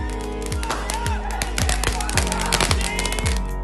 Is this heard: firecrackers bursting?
yes